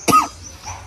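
A single sharp, close cough bursts out near the start, then fades into a quiet room with a faint low hum. It comes from a performer in a Bengali comedy sketch.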